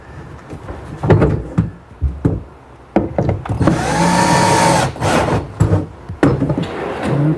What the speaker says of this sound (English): First I'll drill a pilot hole through the front of the tray.